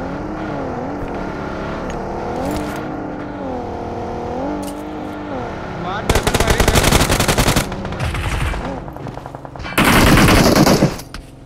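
Gunfire in a battle royale video game: loud rapid automatic bursts crackle in two separate strings. Between them come engine-like humming game sounds, and no one speaks over it.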